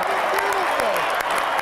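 Arena crowd at a hockey game applauding and cheering in a steady, dense wash of clapping, with a voice talking over the top throughout.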